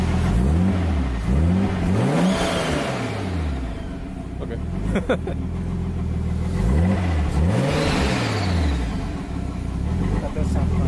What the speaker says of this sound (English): Turbo sounds different. Stock turbo.